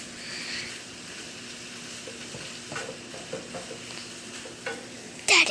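Cooked ham reheating in a frying pan for fried rice, a steady soft sizzle with scattered stirring scrapes and a sharp clatter at the end, close and without talk.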